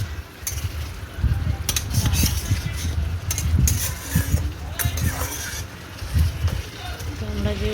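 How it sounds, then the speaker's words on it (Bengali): Meat stirred and fried in a pot makes a steady scraping clatter of a utensil against metal, with soft sizzle beneath. Someone talks throughout over the cooking. "মাংসটা আমার কষছি এখন"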